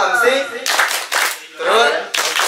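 Group rhythmic clapping routine in an Indonesian classroom or assembly, bursts of many hands clapping in a patterned rhythm alternating with voices calling out, fairly close and loud.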